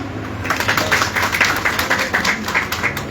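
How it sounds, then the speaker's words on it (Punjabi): A gathered audience applauds speakers at a village meeting, rapid overlapping handclaps swelling into a dense, steady patter that carries on throughout. "ਇਹਨਾਂ ਵਾਸਤੇ ਤਾੜੀਆਂ"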